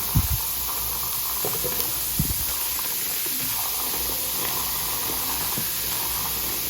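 Steady fizzing hiss of bubbling foam from cleaning powder and water fills a pot, constant and close, with a few faint knocks early on.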